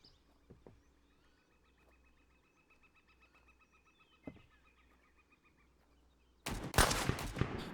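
Enemy gunfire in the video game Road to Vostok: a few faint distant shots early on, then a loud sustained burst of rapid fire near the end.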